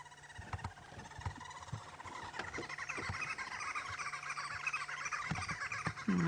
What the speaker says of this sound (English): And the green wood hoopoe is one of them, and I can hear them calling.